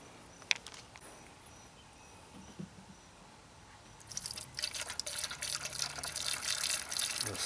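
Washer fluid is poured into a replacement windshield washer reservoir on a 1990–93 Honda Accord, beginning after a few faint knocks as a close, steady trickling splash that grows fuller and continues without talk.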